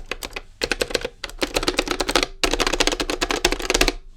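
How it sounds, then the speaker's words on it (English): Clicky buttons on a budget PXN arcade stick are pressed in rapid, uneven volleys of sharp, close clicks, with short breaks between the flurries. "Oh, real clicky buttons."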